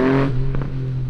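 A motorcycle launching in winter: the engine revs loudly and close with a strong low tone, then a short rising whine as the bike pulls away, no talk.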